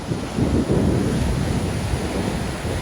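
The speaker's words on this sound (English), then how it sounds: "those waves breaking out there" Ocean waves break over a reef roughly 80 metres offshore in harsh, windy surf-fishing conditions, making a steady, loud wash of roaring surf and wind noise with no voices.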